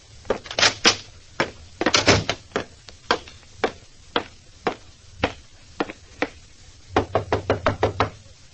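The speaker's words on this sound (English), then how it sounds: "Nobody answered my knock at Janie's dressing room" Sharp knocks on a dressing room door in a radio drama, struck in loud, close, irregular clusters and single raps spread across several seconds, with no voices over them.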